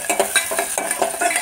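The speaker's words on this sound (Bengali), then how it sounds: "এদিকে কচুর ফোড়নটা দিচ্ছি" Tempering spices for a taro dish hit hot oil with a loud, close sizzle, crackling in quick repeated bursts as they are stirred, with no one talking.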